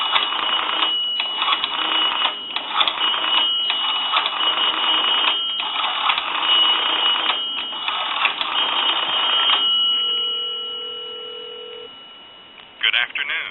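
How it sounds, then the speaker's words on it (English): A steady dial tone from a Northern Electric three-slot payphone, then a quick run of dialing tones and a short ringing tone, loud and clear with no talking. "So we're going to go ahead and give you some dial tone."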